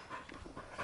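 A dog pants in quick, breathy bursts at close range, soft and steady through a brief moment with no talking.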